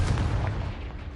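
A Confringo blasting curse explodes in Hogwarts Legacy with one loud, close boom. A rumbling tail follows and fades over about a second, and no voice is heard.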